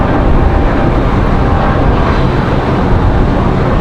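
A Frontier Airbus A220 airliner arriving at Raleigh-Durham airport on a windy day, heard as a loud, steady broadband roar of jet noise and wind rumble with no distinct changes over its length.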